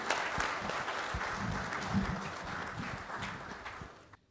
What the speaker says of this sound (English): how about a big round of applause for Mr. Sharat and Mr. Hamza?